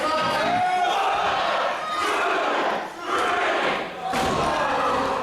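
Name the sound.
crowd cheering at pro wrestling match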